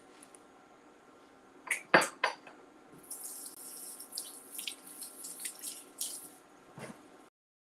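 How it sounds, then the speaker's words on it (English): Hands washed under a running kitchen faucet, with a brief clatter first, then a few seconds of soft splashing water close by before the tap shuts off. "Let me wash my hands and get the air fryer started."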